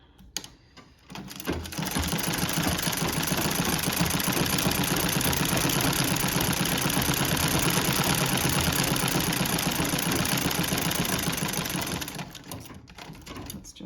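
A Singer Model 15-30 sewing machine runs a dense zigzag satin stitch at a short stitch length, a loud, continuous rapid whir and needle clatter lasting about ten seconds, framed by brief quiet handling sounds.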